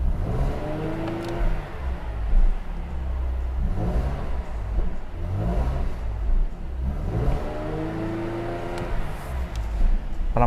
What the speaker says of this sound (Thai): ขออนุญาต เบิ้ลเสียงรถนิดนึงนะฮะ